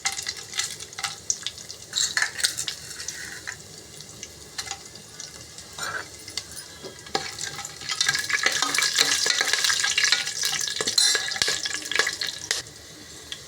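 Whole spices including black cardamom, cloves, shahi jeera and cinnamon fry in hot oil for bagara rice, giving a steady sizzle broken by stirring scrapes and clinks, louder and denser in the second half.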